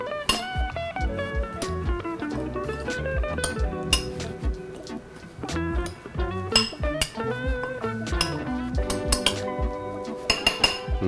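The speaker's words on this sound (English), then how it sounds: "And I'm gonna mix all of that together." A metal utensil mixing red onion and mint in a bowl, with repeated ringing clinks and scrapes in an irregular rhythm, close and clear.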